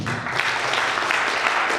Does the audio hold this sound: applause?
yes